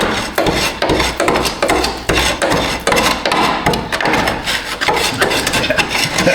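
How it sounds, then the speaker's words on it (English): Rotted metal being scraped out from inside a Chevrolet frame: close, loud, repeated rough scraping and rasping strokes in an uneven rhythm, with no voices. "Scrape out what's left of the frame in here."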